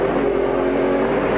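Touring cars racing at Eastern Creek in the 1996 Australian Touring Car Championship, including a Holden Commodore, a loud sustained engine drone of cars running hard nearby, steady throughout.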